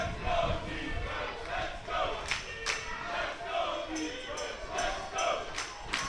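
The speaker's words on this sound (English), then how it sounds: "Swiss fans are cheering up their defense now." Swiss fans cheer and chant for their defense at an American football game between Switzerland and Russia, a steady, fairly distant crowd roar with rhythmic rises and sharp claps or bangs.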